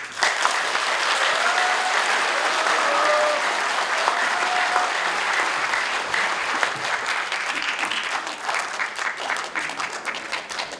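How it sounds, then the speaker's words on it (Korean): Steady, full applause from an audience in a large National Assembly conference hall after a retired army lieutenant general's speech, continuous clapping that stays loud before thinning slightly near the end. "다시 한번 큰 박수 부탁드립니다"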